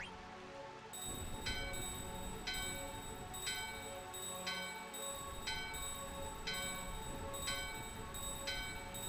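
A bell rung repeatedly in Final Fantasy IX, clear bright strikes recurring about once a second over a soft ambient backdrop, with no voices.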